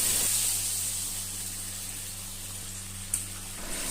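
Water poured into shrimp curry with potatoes and pointed gourd in a hot pan gives a steady close hiss and steamy sizzle that fades slightly, with a faint knock near the end and no talking.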